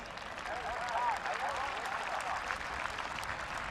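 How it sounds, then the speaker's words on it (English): A crowd at a high school varsity football game applauds the officials, a broad, distant-sounding patter of clapping across the stands, with faint voices mixed in. "Please give our officials a round of applause."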